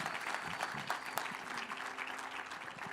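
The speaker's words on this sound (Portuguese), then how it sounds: "Pode aplaudir o Senhor com vontade" Congregation applauding during a church service, a steady wash of clapping from many hands at moderate distance, continuous throughout without speech over it.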